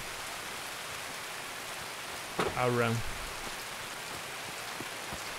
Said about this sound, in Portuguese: Ficou meio escuro porque tá tipo 5 da manhã e chovendo